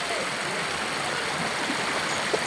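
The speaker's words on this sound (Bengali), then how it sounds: "পানি কি শব্দ" Floodwater rushes across a submerged village road in low-lying Gazipur, a continuous loud, even roar of flowing water like a stream, with no voices.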